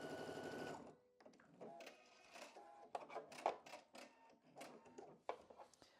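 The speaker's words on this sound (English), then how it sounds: "I know I'm talking over the sewing." A domestic sewing machine stitching quilt block pieces runs in quiet, stop-start bursts of rapid needle chatter, preceded by a brief voice at the start.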